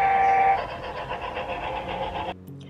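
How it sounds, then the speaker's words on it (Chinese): A train passes at moderate distance, a steady rolling rumble opening with a brief horn-like tone and cutting off abruptly near the end. "火车。"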